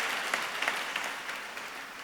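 A large banquet audience at an Asian American business award dinner applauds, giving a steady, dense wash of clapping that holds evenly throughout at moderate loudness.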